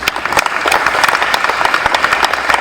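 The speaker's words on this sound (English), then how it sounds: "so give her a round of applause." An audience at a school awards night gives a steady round of clapping for a student archer honoured in her absence, dense and continuous applause filling the room without any talk.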